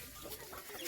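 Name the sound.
chickens clucking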